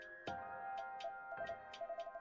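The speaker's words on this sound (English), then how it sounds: "Sorry, that's my alarm." A phone alarm rings in a quiet room, a steady electronic tone with a repeating chirping pattern that turns into rapid regular beeps near the end, close and moderately loud, no talking.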